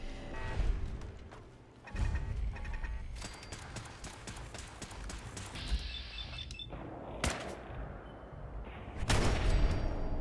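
Gunfire takes out turrets in the Fallout 4 video game. A few sharp, loud bursts cut through busy clattering game noise, with the strongest shots near the end.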